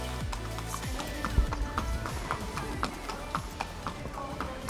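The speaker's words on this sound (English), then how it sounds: "take the horses to the stables to settle them for the trials" Racehorses being led to the stables on race day clip-clop with an irregular, moderately close rhythm of hoof strikes over a busy background murmur.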